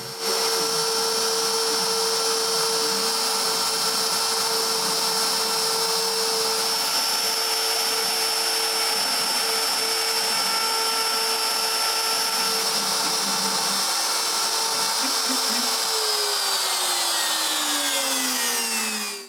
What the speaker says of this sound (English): I carve a woodpecker on the other square